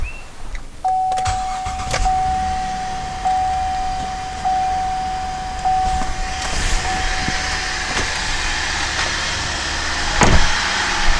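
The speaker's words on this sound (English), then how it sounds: "So I started the car" A 2007 GMC Acadia engine idles steadily with a low rumble during an air conditioning recharge, joined by a faint high whine and a few clicks and thumps nearby.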